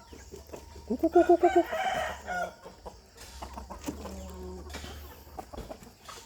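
A Burmese fighting rooster crows once loudly and close by, a rising then sustained call, with softer clucks and farmyard fowl sounds continuing afterward.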